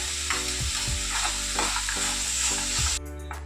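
Spices frying in a pan with chilli powder, salt, green chilli and ginger paste for a vegetable dal cooked without onion or garlic, sizzling steadily and close up with a few stirring knocks, stopping abruptly near the end.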